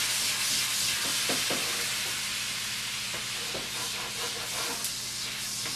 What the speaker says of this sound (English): I'm going to hit it with a little bit of coffee. Use that as a deglazer